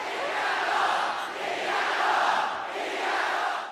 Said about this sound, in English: the crowd is chanting her name